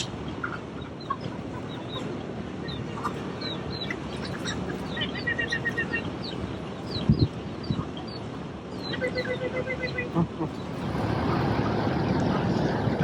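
Chickens and seagulls squabble over food at feeding time in Key West, Florida, a busy flock of clucks, squawks and gull calls, a steady outdoor noise with a few sharper bursts and a low rumble near the end.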